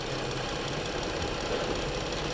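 A Ford Explorer 3.5 engine running after a water pump replacement, a steady dense idle hum with even mechanical clatter, close and constant throughout.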